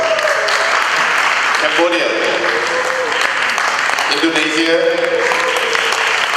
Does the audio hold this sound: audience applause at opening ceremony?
yes